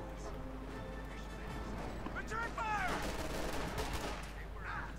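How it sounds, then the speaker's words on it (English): Gunfire from advancing German infantry in the Company of Heroes 2 strategy game, rattling bursts mixed with battle noise and a steady low rumble, with speech running over it throughout. "The Major taking heavy fire here from the German infantry advancing."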